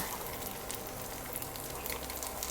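A sea bass fillet fries gently in a pan over low heat, giving a steady, soft, even sizzle with no break.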